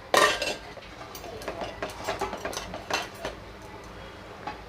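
Adukku-style Mumbai biryani is scooped from a pot onto another plate: a close series of metal spoon clinks and scrapes against the vessels, sharpest at the start and then lighter and irregular.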